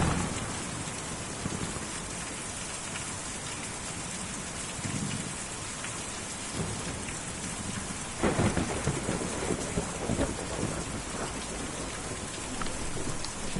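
Rain and thunder fill a storm in the video game Kentucky Route Zero: a constant dense downpour hiss with low rolling rumbles and a sharper thunder crack about two-thirds through.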